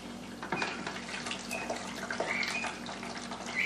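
Wort for a red ale trickles and splashes as it is drawn off into a hydrometer sample. The pour is faint and steady, with small clinks along the way.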